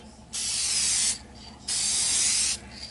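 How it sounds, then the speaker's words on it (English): Two long hissing bursts from an aerosol can of UV-resistant clear acrylic coating, each lasting under a second, close and loud with short quiet gaps between. "and you simply spray over strips"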